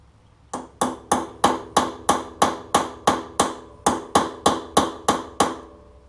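A sharp tool is struck into a crimped hub nut on a Yamaha Kodiak 700 ATV with a hammer, about eighteen loud, evenly spaced metallic blows ringing out close up.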